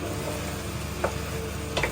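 Taro stolons fry in spiced oil with a steady broadband sizzle, broken by a few soft spatula scrapes as they are stirred around the pan.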